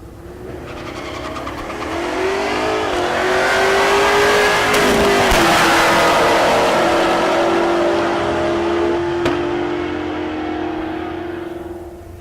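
A 4th Gen and a 5th Gen Camaro launch down a drag strip at Tulsa Raceway Park, one LT on nitrous against an LS, engines roaring loud and close, swelling to a peak then fading as they pull away.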